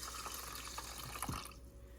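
Water pours into the inner pot of an Instant Pot Carb Reduce rice cooker holding washed rice, a close, continuous trickle with small splashes that cuts off near the end.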